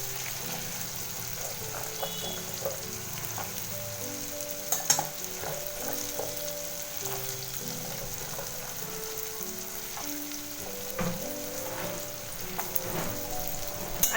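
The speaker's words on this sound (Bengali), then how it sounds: "আলুগুলো আর পেঁয়াজের সাথে একটু ভালো করে নাড়াচাড়া করব" Potatoes and onions sizzle and fry steadily in a pan while being stirred, a soft continuous crackle with occasional scraping clicks of the spoon, fairly quiet and close, with no talk.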